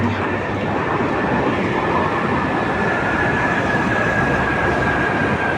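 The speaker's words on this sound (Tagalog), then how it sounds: "Ayan ang MRT!" A loud, steady rumble of an MRT train running past on rails, continuous roar with a faint high whine, no talking.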